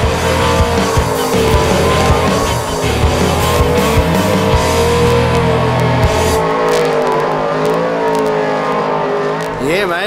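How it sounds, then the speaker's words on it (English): Ford Mustang RTR Spec 5D drift car with a 900 horsepower, 436 cubic inch Roush Yates V8 at a D1NZ drifting round at Pukekohe, roaring loud and sustained with tire squeal throughout; the engine note drops partway through. "Driving the Ford Mustang RTR Spec 5D with a Roush Yates 436 cubic inch, 900 horsepower V8"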